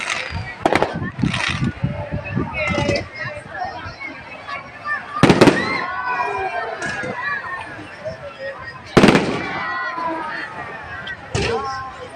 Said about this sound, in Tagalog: Ay manood kami ng fireworks display maya maya.